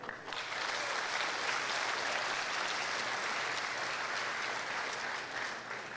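A crowd at a Boys Nation awards ceremony applauds steadily for the third-place city, a sustained wash of clapping at even strength from start to finish with no speech over it.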